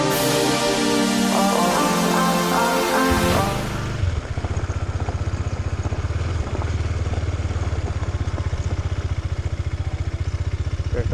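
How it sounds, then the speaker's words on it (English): KTM Duke 250 motorcycle pulling away hard in first gear: a dense engine roar with a rising rev note for a few seconds, then a lower, steady rumbling drone close by with no talking. "let me check what my Duke 250 can do in its first gear"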